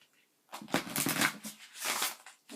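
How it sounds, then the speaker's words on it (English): A deck of tarot cards shuffled in short riffling bursts, close and crisp, with a brief pause between two rounds of shuffling. "Let me shuffle one more time"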